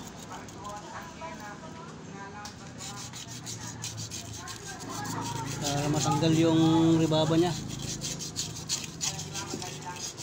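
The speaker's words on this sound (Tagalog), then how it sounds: "So lilinisin natin ito ng liha." Sandpaper rubbing against a washing machine wash motor part, a rough scraping rasp that builds louder in the middle, heard alongside someone speaking.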